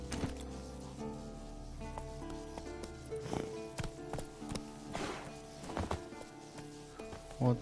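Horse hooves clip-clopping in The Witcher 3, a steady rhythmic trot close by with game music tones underneath, no voices.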